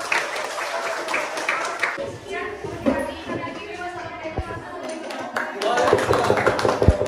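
A class of pupils claps in a counted clapping game, bursts of sharp hand claps in rhythmic groups with children's voices and a teacher talking over them in a room.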